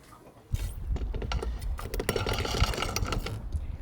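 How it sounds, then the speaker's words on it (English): Wrench tightening bolts on a boat at anchor, a close, busy run of clicking and metallic ratcheting with knocks and scrapes, starting suddenly and continuing steadily without talk. "I'm just gonna tighten down these bolts,"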